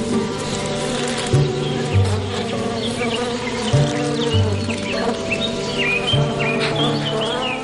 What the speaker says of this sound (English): he probably shouldn't sit on a log full of hot-tempered bees